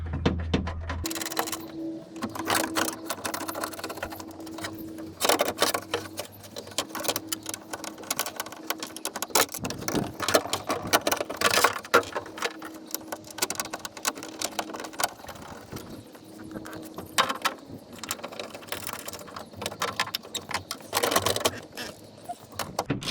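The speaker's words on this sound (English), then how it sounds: "So we're going to be screwing on the regulator." Power tool driving screws while a window regulator is fitted into a 2007 Ford F150 door, repeated whirring bursts with ratcheting clicks and mechanical rattles, close and fairly loud.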